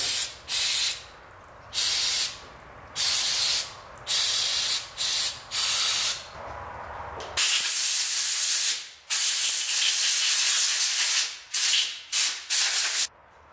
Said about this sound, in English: So I'm just going to clean this one up a little bit with carb cleaner and some compressed air.